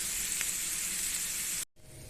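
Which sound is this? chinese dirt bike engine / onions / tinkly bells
onions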